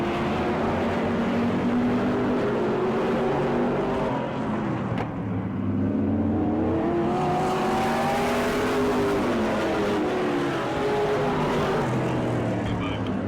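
Race cars roaring around the track at the Auburndale season opener, loud continuous engine whine rising and falling in pitch as cars pass, with an announcer's voice running over the noise.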